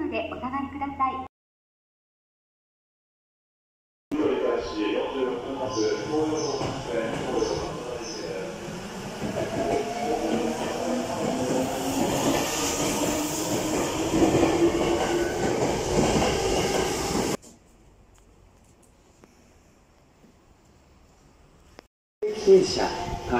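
Tokyo Metro Tozai Line subway train pulling into Minami-Sunamachi station, a steady rumbling roar of wheels on rails that builds and then drops away, under station platform announcements.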